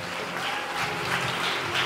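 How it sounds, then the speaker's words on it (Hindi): Audience at a YMCA Vapi talent hunt award distribution bursting into dense, steady applause for a trophy winner, loud and continuous with no break. "हाँ, ब्लसन के लिए जोरदार तालियां।"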